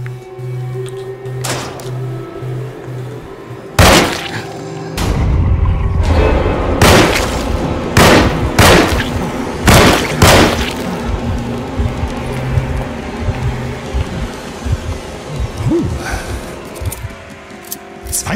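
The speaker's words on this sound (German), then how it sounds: "Schuss!" Gunfire in the Alone in the Dark (2024) video game: several loud, sharp booming shots at irregular intervals over a low game ambience, with no talk.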